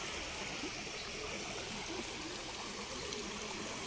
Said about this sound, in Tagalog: ang daloy ng tubig